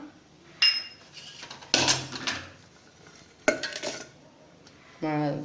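Roasted urad dal, dried red chillies with asafoetida and roasted gram being tipped into a mixer jar, heard as several separate clattering pours and metallic clinks with quiet pauses between them.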